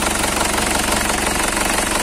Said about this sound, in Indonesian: Mesinnya tidak obos sama sekali pemirsa ya, mesinnya garing, bersih, tidak obos.